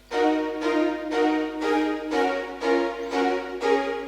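A rich orchestral-style synth plays a slow sequence of sustained minor chords, about seven in a row, the root note pitched a semitone down, each swelling in evenly with a somber minor feel.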